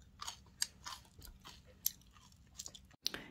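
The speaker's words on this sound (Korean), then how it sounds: "한번 먹어보도록 하겠습니다." Crunchy scorched rice (nurungji) made without a frying pan, chewed up close: irregular crisp crunches and bites with sharp cracks, fairly quiet and intimate, no talking.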